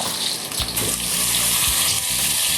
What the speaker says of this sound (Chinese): 油已经煸得差不多了，我们放入豆角。